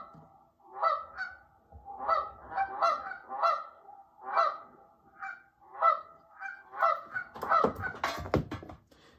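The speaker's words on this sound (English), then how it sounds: "So the Canadian geese from my phone that I recorded sound like this." Canada geese honk repeatedly in a loose, uneven series of nasal calls, some overlapping, growing busier and louder toward the end, recorded slightly distant on a phone.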